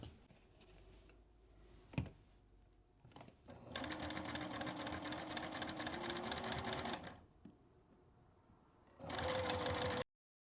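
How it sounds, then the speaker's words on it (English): A sewing machine runs in two bursts as it stitches quilt fabric along a drawn line, a fast steady whirring chatter after a few handling clicks and bumps, close and alone. "I'm going to take these to the machine and just sew along that line that I've drawn"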